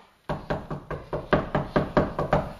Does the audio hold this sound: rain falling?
no